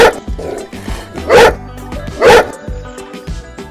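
A dog barking loudly and close, two strong bow-wow barks spaced about a second apart amid smaller yips and whimpering sounds.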